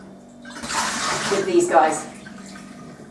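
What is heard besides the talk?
water dripping from soaked items hung over a door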